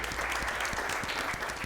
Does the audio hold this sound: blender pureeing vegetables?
no